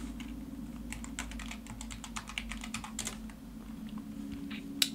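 Computer keyboard typed on steadily, with close individual keystrokes in quick bursts over a low electrical hum. No one speaks.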